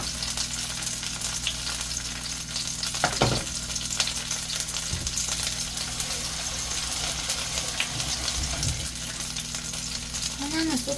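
Sauce-coated food frying in a pan, a steady close sizzle with occasional clinks and stirring sounds over a continuous background hum.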